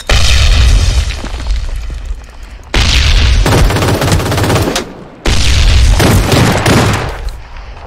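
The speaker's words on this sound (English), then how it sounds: "I fucking love the shotgun, man. It just saved my ass twice." A shotgun fires in a video game, three loud, booming blasts spaced a couple of seconds apart, each with a heavy rumbling tail and no talk over them.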